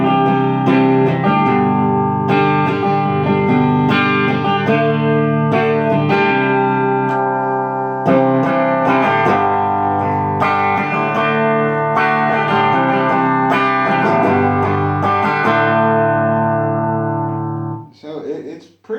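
Clean electric guitar through an Orange Micro Dark 20-watt amp set about halfway up, playing sustained chords and notes steadily for most of the passage before trailing off near the end, with no talking over it.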